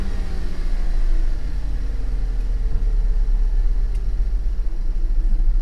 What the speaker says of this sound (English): No, it's misfiring. As soon as I let off the throttle, the whole car is shaking.